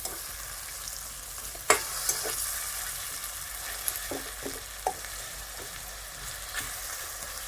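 A peanut masala sautés in a pan with a soft, even sizzle, broken by a handful of quick spatula clicks and scrapes spaced a second or so apart.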